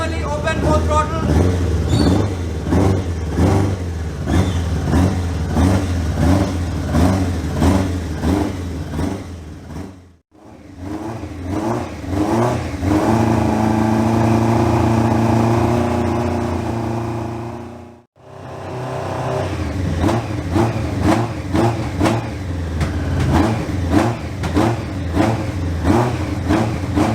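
An old motorcycle engine, restarted after six months unused with sticky carburetors and stale fuel, runs loud and steady as both throttles open gradually, revving in surges with two short drops, while someone talks over it.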